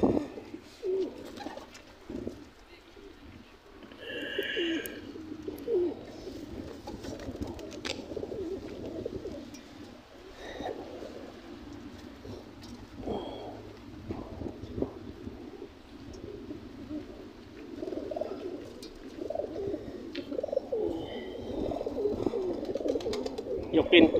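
Racing pigeons in a loft coo in soft, repeated low murmurs, many birds overlapping continuously at moderate distance, with faint wind and occasional light rustling.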